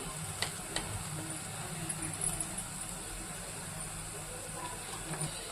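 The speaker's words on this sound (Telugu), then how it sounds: "ఈ అల్లంలోని పచ్చివాసన పోయేంత వరకు ఇలా వేయించుకోవాలి" Ginger garlic paste with turmeric frying in a pan with cooked mutton mince, a steady close sizzle and hiss with a few light stirring clicks.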